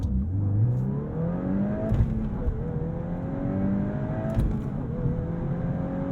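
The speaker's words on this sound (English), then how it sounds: "So into first, revving it out." A Volkswagen Golf R with a manual gearbox, in sport mode, climbs hard through first gear, its engine note rising steadily from inside the cabin. The run includes a brief shift-like break partway through.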